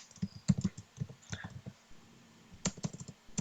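Keyboard typing while setting up a Scratch project on a computer: a few quick bursts of key clicks close by, separated by short pauses, with no talking.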